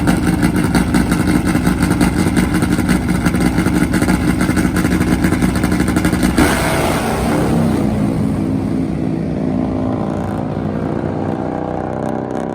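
NHRA drag racing motorcycle engine blares at close range, a loud rapid-firing rasp for about six seconds, then revs drop away into a lower, fading rumble with falling pitch.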